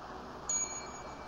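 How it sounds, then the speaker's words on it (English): A single bright bell strikes once, a crisp ding like a bicycle bell, and its clear tone rings on and fades slowly over a quiet room-tone background. "Ring that bell, folks."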